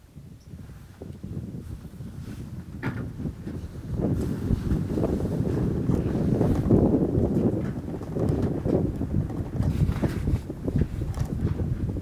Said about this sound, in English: Pretty strong wind from the left.